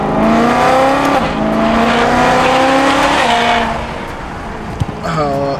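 A BMW E92 M3 with DCT gearbox revs loudly from inside the cabin, its engine note rising through gears with sharp downshifts and blips, while occupants talk over it.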